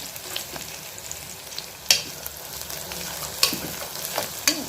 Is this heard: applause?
no